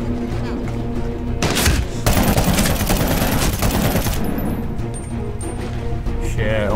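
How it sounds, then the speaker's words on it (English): Enemy machine gun in the Medal of Honor video game fires in dense, sustained bursts, loud and close, with rapid rattling rounds over several seconds before cutting off into quieter game ambience. "This guy on the machine gun."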